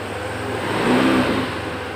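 A Yamaha NMAX 155 scooter engine comes to life, a close, steady whirring hum that swells briefly in the middle and then settles, with no speech.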